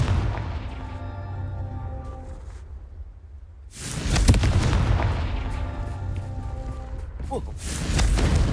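Confringo blasting spells going off in Hogwarts Legacy: two loud broadband blasts with rumbling tails, separated by a quiet stretch, set amid game background sound.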